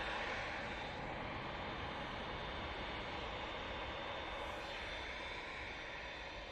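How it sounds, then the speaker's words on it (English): A TUI Boeing Dreamliner at an airport produces a faint, distant, steady jet rumble and hiss that carries evenly throughout, with no voices over it. "Is that TUI Dreamliner?"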